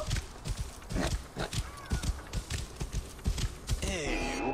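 Hoofbeats of a horse in the video game Assassin's Creed Origins clop in a steady galloping rhythm, close and moderately loud, with a brief whinny-like tone near the end.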